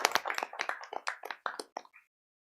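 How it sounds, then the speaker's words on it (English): Clapping at a town board of aldermen meeting, a short burst of a few hands close up that thins out and stops after about two seconds, leaving silence. "So I just want to give them a round of applause too."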